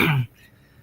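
A man with a rough, hoarse voice clears his throat once, a short loud rasp up close that stops abruptly, leaving quiet room tone.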